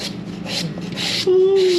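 Rhythmic scraping, rasping strokes of a knife slicing food, close and repeated, with a steady tonal hum rising near the end.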